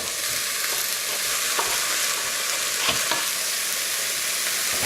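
Pork sizzles steadily in a hot stir fry pan over softened vegetables, a dense, even hiss with a few faint stirring clicks and no talking.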